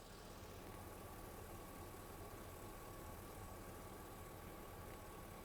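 A 2006 Chevy 2500 truck engine idling rough, a steady, continuous low rumble and hum with a faint whine, heard alone with no talking.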